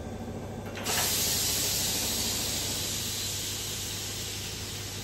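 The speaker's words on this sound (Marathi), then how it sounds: "अशी वाफ काढायची कुकरची." A pressure cooker holding palak chana dal vents its steam in a sudden loud, continuous hiss that starts about a second in and holds steady at close range to the end, with no voices.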